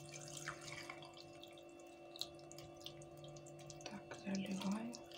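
Cold tap water runs into a cooking pot in a home kitchen, a faint trickling and splashing with a few drips, growing louder near the end under a steady background hum.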